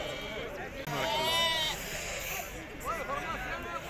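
Sheep bleat in quick succession at a busy livestock market in Azrou, their calls rising over a constant crowd murmur with people talking close by.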